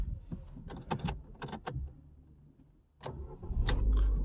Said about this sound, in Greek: Από εδώ και πέρα παίρνει μπρος κανονικά.